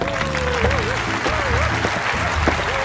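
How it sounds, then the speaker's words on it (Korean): Applause welcoming a guest speaker at a Korean church youth service, brisk clapping mixed under loud, continuous music with a wavering held tone. "자, 박수로 환영해 주세요."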